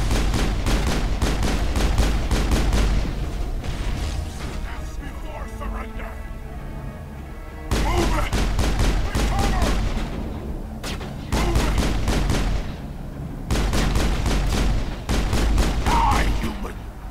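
Rapid bursts of gunfire from the video game Mass Effect, during a firefight on Terra Nova, come in repeated volleys separated by brief pauses and stay loud and close throughout, with a voice talking over parts of it.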